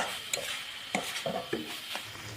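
A cauliflower-stuffed paratha fries in a pan, a low sizzle with several quick spatula scrapes and taps in a short, close burst, without any talking.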